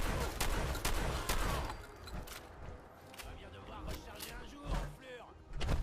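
Combat rifle fire in Fallout 4 cracks out in a run of loud, sharp shots, several rapid bursts early and a few more later, over game ambience and spoken commentary.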